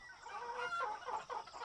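A rooster and a hen make a short run of throaty clucks and a crowing call, close and fairly clear, with no one talking.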